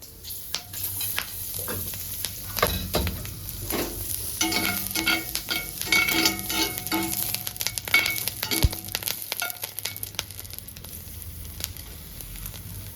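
Oil sizzling in a pan while being stirred, a loud crackling fry with repeated scraping and clattering strokes of a spoon against the pan.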